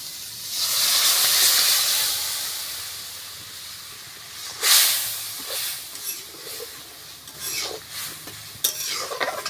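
Lentils go into a hot pan and erupt in a loud, hissing sizzle that swells and slowly fades, followed by several close spoon scrapes and stirs against the pan.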